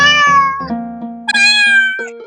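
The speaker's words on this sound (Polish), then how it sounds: "Tutaj mamy kota." A cat meows loudly and close by, two drawn-out cries in quick succession with no other sound.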